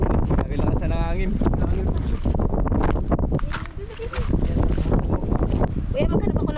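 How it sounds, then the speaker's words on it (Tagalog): Strong wind blasts across an abandoned island shore, a loud rushing roar buffeting the microphone close up, with people talking over it throughout. "Laki lakasan ng hangin."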